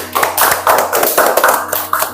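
Loud, close hand clapping from a classroom audience at a teacher-training practice session, a rhythmic burst of many hands with a low hum beneath.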